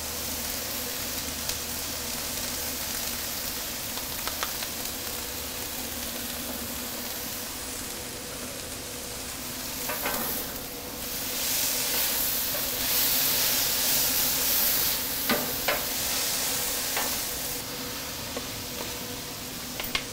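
Garlic, about two tablespoons, sizzles on a wood-fired Pit Boss grill, giving a steady broadband hiss with a few brief crackles and a louder stretch midway. No one speaks.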